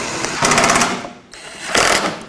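Ratchet wrench driving in the headlight mounting bolts on a 2001-2007 Volvo V70, two quick bursts of close, rapid clicking separated by a short pause.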